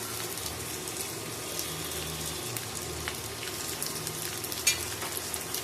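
Ginger and garlic paste frying over browned onions in a pan while cooking small-fish chorchori, a steady soft sizzle with light stirring and a faint watery hiss, no speech.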